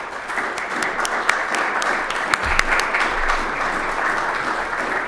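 Steady applause from an audience welcoming a lecturer on Washington, D.C. monuments and memorials, dense clapping that holds at an even level for the whole stretch.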